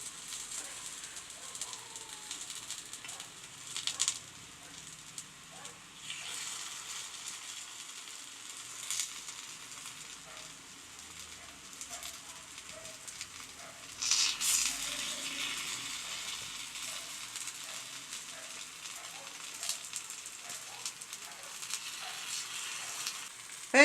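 Sweet aval paniyaram sizzling softly in a paniyaram pan, a steady low frying crackle with a few faint stirring and turning clicks, no talking.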